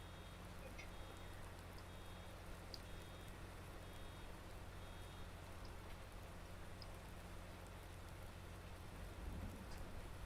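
Steady rain falls in a video game, a dense even hiss that stays constant throughout with no voices, with faint short electronic beeps near the start.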